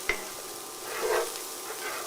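Butter browning in a pan for a vegan cooking class gives a quiet, steady sizzle, with a soft stirring scrape partway through and a small clink at the start. No one speaks.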